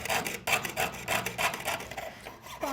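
A jeweler's saw blade rasps back and forth in its frame through metal during handmade jewelry sawing, a steady rhythmic scraping of close, moderately loud strokes roughly every half second with no talk.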